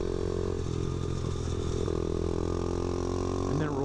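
Motorcycle engine easing off the throttle into a turn, a steady close hum with a slight falling pitch and a faint rise at the very end.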